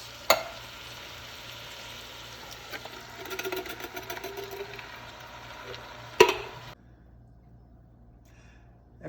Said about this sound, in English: I'll add 2 cans of petite diced tomatoes